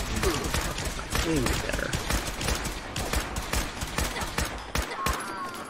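Rapid gunfire in Fallout 4 rattles through the whole stretch in dense bursts of shots, loud and close, while a voice speaks briefly over the shooting.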